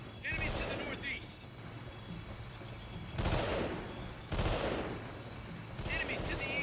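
Gunfire in Delta Force: Black Hawk Down, with heavy bursts of shots and booming reports against a constant rumbling backdrop, loud and repeated at irregular intervals.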